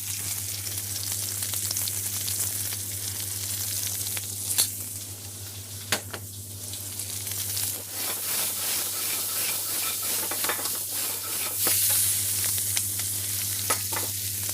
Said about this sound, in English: we just slightly want to caramelize the onions, but not to brown them too much